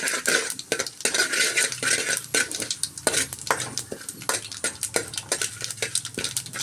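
Urad dal, mustard seeds and curry leaves fry in hot oil for sweet potato uppukari, with a steady crackling sizzle broken by frequent sharp metallic clinks and scrapes of a spoon stirring in the pan, close and fairly loud.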